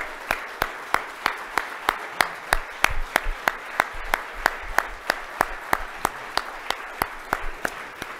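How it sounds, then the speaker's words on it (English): A handful of award nominees at a high school athlete awards show clap together in a steady, even rhythm, each crisp clap distinct and fairly close, continuing for about eight seconds with a faint murmur beneath. "maybe applauding for your family and friends that are here"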